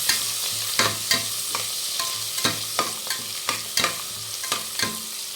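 Onion, curry leaves and green chillies are stirred as they fry, with a loud, steady sizzle and regular scraping strokes of a spoon against the pan, roughly two per second.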